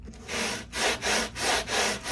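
A wide sanding block rubs back and forth over the frets of a Harley Benton Santos nylon-string guitar, making four steady, close abrasive strokes in an even rhythm, each one a loud dry scrape separated by brief pauses.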